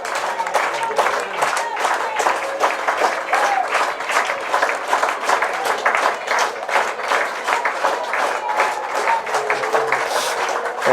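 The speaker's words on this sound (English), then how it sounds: "As the fans begin to clap here." Baseball fans clapping steadily throughout at a USPBL minor-league game between the Westside Woolly Mammoths and Birmingham Bloomfield Beavers, dense continuous applause with some crowd voices mixed in.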